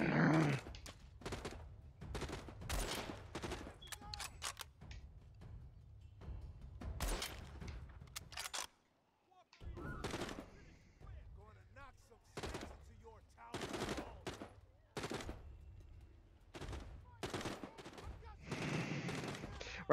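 Repeated bursts of gunfire aimed at a zombie in The Walking Dead: Saints & Sinners, sharp loud shots clustered in rapid volleys with brief pauses between them and a short silent gap midway.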